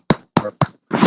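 Three sharp, separate hand claps ring out close by in quick, even succession, followed by a longer, rougher burst of noise.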